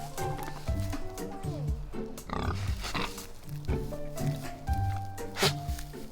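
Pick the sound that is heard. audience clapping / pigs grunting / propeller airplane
pigs grunting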